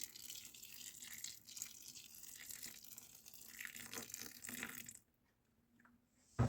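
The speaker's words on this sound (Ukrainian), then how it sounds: "заливаю кип'ятком" Boiling water poured from a kettle over dried fruit, a steady close gushing stream for about five seconds that stops abruptly, followed by a brief knock.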